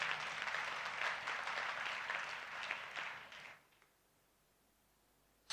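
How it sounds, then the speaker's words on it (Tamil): A church congregation claps loudly and continuously at a New Year promise service, a steady wash of applause that stops abruptly and leaves near silence. "கைத்தட்டி தேவனை மகிமைப்படுத்துங்க"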